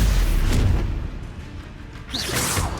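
A Stupefy spell in the Hogwarts Legacy video game goes off as a loud whooshing magical burst with a booming impact, followed by a second swishing blast.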